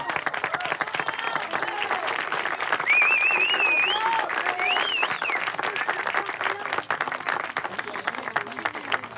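An audience applauding postal workers at a gathering, steady, close clapping lasting throughout, with a few voices calling out and cheering over it.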